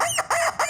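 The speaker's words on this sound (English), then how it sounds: "And the rubber chicken says," A rubber chicken toy squawks three times in quick succession, loud nasal squeezed honks with a steady rhythm, close and alone.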